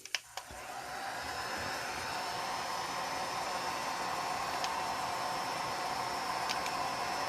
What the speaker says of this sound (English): I'm going to go ahead and hit it with my heat gun a little bit